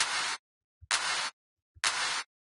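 Electronic clap sample from a trance drum kit, heard without a treble boost: three short, sharp clap hits spaced evenly, each preceded by a tiny low click, with silence between.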